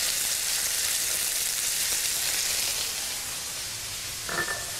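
Cream poured into rice cooking in a pan brings a loud, even hiss and sizzle that softens and settles lower, followed by a brief faint clink near the end.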